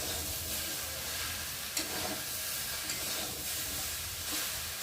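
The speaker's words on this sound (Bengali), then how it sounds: "আর এখন এই যে কেটে ধুয়ে রাখা শাকটাকে দিয়ে সবজির সাথে একটু কষিয়ে নেব।" Chopped water spinach and mixed vegetables sizzle and stir-fry in a pan, a steady crackling hiss with a few scraping stirs, fairly soft and with no voices.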